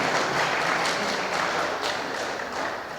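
An audience applauds at the opening of a convention centre with a loud, continuous wash of many hands clapping that fades slightly toward the end.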